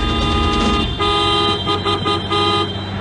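A car horn blares in a movie scene, loud sustained toots with a brief break and a few pulsing honks, filling the short stretch over a dense background of sound.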